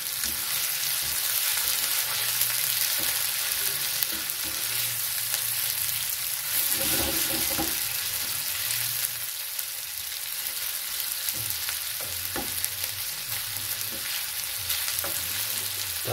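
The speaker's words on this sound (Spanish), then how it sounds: "Es importante tener el aceite bien caliente para saltear bien nuestras piezas de pollo" Chicken pieces sautéing in very hot oil for pollo saltado, a continuous close sizzle with occasional stirring and scraping bursts, no voices.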